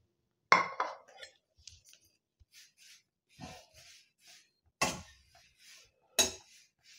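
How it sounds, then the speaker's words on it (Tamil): Moringa leaves dry-roasted in a steel pan on low heat, heard as sparse metallic clinks and scrapes, a few sharper knocks standing out between quiet gaps. "இப்போ அடுப்பில் ஒரு ஸ்டீல் பாத்திரத்தை வச்சு நான் அதில் இந்த முருங்கைக்கீரையை லேசாக"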